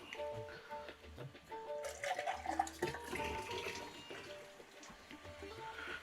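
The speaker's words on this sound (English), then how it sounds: "I just rinse out the tin." Tap water splashes and gurgles into an empty tin of chopped tomatoes as it is rinsed out in a kitchen, a fairly close trickling sound with faint clinks, no talk.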